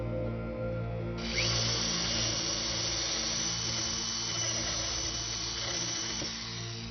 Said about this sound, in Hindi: ये रही ड्रिल मिस्टर फोर्ड।